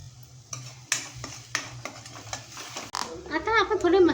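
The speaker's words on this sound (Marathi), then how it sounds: "आता परत झाकण उघडून आपण ढवळून घेऊया भाजी" A spoon stirs sprouted moong gravy vegetable in a cooking pot, several distinct scraping strokes with light clinks against the metal, close and clear, followed by someone speaking over a soft sizzle.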